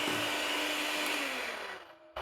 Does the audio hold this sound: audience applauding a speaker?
no